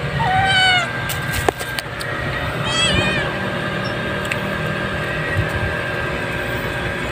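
Pet cats meow close by with a few drawn-out, wavering cries and scattered soft thumps of play. A steady low rumble and faint background noise run beneath them.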